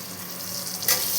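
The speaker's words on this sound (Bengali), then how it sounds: "হলুদ দিয়ে আর একটু ভেজে নেব আলুগুলোকে" Potatoes fry in hot oil with salt and turmeric, giving a close, steady sizzle that briefly flares louder near the end of a short burst.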